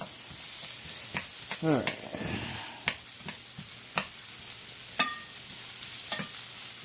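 Greens fry in a pan, a close, steady sizzle broken by several sharp stirring scrapes and clacks of a utensil, with a brief spoken word partway through.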